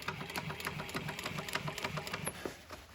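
A sewing machine stitches marine upholstery for a boat cover, a quick, steady rhythmic chatter of needle strokes heard close and fairly quiet, easing off near the end.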